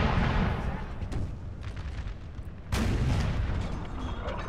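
Canister shot artillery fire in Napoleon: Total War, heavy rumbling booms and blasts with a sharp burst partway through, layered over continuous battle din.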